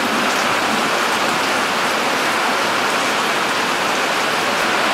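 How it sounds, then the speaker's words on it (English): Steady outdoor rain falling, a dense, continuous hiss of drops at constant loudness with no pauses, close and enveloping. "I hope you can hear me over the rain that's picked up here."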